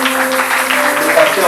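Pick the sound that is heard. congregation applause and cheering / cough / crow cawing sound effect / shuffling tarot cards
congregation applause and cheering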